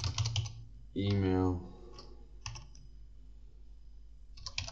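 Computer keyboard typing in short clicking bursts at the start and end, broken by a spoken word in the middle, fairly quiet and close.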